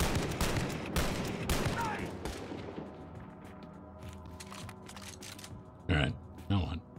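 Video game gunfire crackles in dense bursts at the start, then thins out to scattered distant shots, with two louder reports near the end and game ambience between them.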